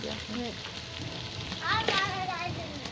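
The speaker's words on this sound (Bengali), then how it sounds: "এই যে মশলাটা খুব সুন্দর করে ভাজা ভাজা করছি" Spices frying in mustard oil over a clay stove while duck curry is prepared, a steady close sizzle with a voice talking over it midway.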